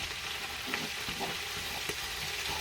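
Greens being stirred in hot olive oil in a pot, a continuous close sizzle with soft scraping and shuffling of leaves as the spoon moves through them.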